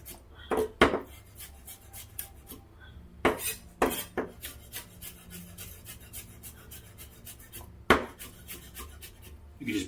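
Knife chopping and mincing on a cutting board while making tacos and guacamole from scratch: irregular sharp knocks, some bunched in quick runs with a few louder isolated strikes, close and clear with no talk.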